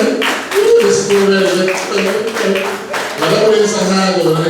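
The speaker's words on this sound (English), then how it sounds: "Give Mr. Bilal a round of applause for him" Audience clapping in a round of applause at a library's open mic and poetry night, close and steady for several seconds, with voices mixed in.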